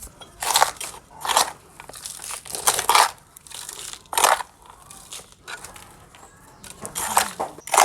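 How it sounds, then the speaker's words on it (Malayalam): Dry potting soil is pressed and packed around an Aglaonema Red Lipstick houseplant in a pot, giving repeated bursts of gritty crunching and crumbling, close and fairly loud, with quiet pauses in between. "നമുക്ക് ചെടി ചുറ്റോട് മണ്ണിട്ട് കൊടുക്കാം കേട്ടോ"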